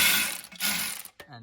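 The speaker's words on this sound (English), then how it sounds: "Let's actually see this bad boy in action. Go ahead and break it loose, like so." Electric ratchet breaking a bolt loose, a close mechanical whir with buzzy clicking that stops abruptly, followed by a short fainter rattle.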